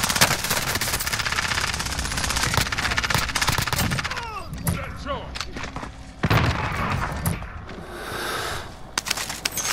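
Rapid machine-gun bursts and single shots ring out through a Call of Duty: Modern Warfare match, dense and loud at first, then broken into scattered volleys with thuds and short pauses.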